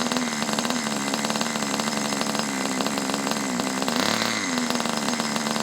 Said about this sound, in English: Listen to that idle.